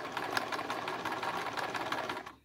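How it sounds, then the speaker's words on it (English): A Brother VX-810 sewing machine runs steadily at close range, its rapid rhythmic needle clatter continuous for a couple of seconds before stopping abruptly. "It sounds like a brand new sewing machine"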